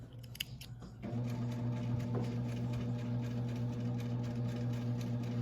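A sewing machine runs a zigzag stitch along a seam finish with a steady, close mechanical hum. A few soft snips and clicks come just before it starts, and it then runs continuously without a break.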